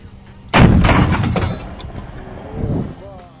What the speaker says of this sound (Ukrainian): Ось зараз якраз amx 10 RC працює по окупантах в такому режимі.